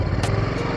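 A motorcycle engine hums steadily and close, a rough continuous drone with a fast pulsing rhythm and no voices.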